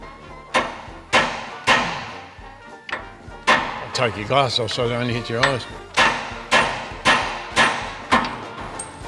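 A hammer strikes a tapered steering tie rod end that has likely never been removed. About a dozen loud, sharp metallic blows land in a steady rhythm, with a short stretch of talking in the middle.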